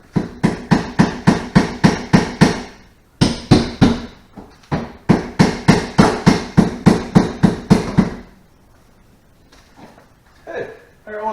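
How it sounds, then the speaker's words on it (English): Quick bursts of sharp, evenly spaced light hammer taps on a brittle plastic rear wiper part, about eight per run, pausing between runs before tapering into quiet with faint shuffling. "I got a hammer, we can tap on it if we need"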